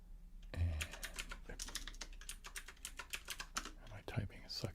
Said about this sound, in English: my typing is sucking tonight